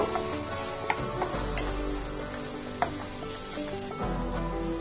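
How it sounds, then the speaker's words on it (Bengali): Ground spices with turmeric and Kashmiri red chili powder sizzle in oil in a pan for dhaba-style palak paneer, a steady close frying hiss with occasional soft knocks of a stirring spoon. "সামান্য একটু হলুদের গুঁড়ো। মশলাগুলোকে ভালো করে একটু মিক্স করব।"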